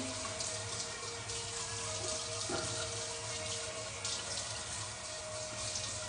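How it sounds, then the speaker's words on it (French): Water runs steadily from a bathroom sink tap while a face is rinsed, a soft continuous splashing with a few small bumps and clinks. It stays at a low, even level throughout and no voice is heard. "Vous ne me voyez pas parce que je rince, je n'ai pas disparu."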